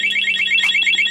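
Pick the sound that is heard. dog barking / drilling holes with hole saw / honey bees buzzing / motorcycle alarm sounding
motorcycle alarm sounding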